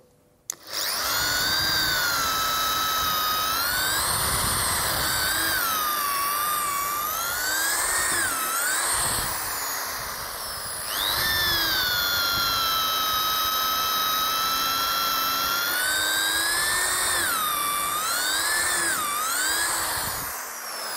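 A Dongcheng electric drill bores into wet waru wood, its high whining motor running loud and unbroken for about twenty seconds, pitch rising and dipping slightly as the bit bites and eases through the timber.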